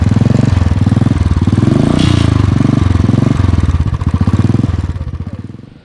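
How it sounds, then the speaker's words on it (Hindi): A Royal Enfield Thunderbird 350X motorcycle runs in neutral, its exhaust giving a loud, close, steady thumping idle with an even rapid pulse throughout, no voices. "और इस साइलेंसर का जो साउंड है वो मैं आप लोगों को सुना देता हूँ।"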